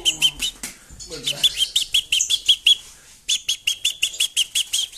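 Rescued European goldfinch chirping in bright, rapid bursts of tweets and whistles, very close and loud, with one short pause before the calls resume.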